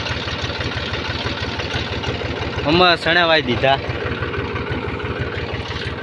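A tractor engine runs with a steady low throb nearby while towing a wire across a field, and someone speaks briefly over it midway.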